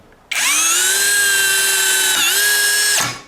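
A cordless drill set to second gear whirs loudly at steady high speed for about three seconds, dipping briefly as the self-drilling screw bites, then stopping abruptly.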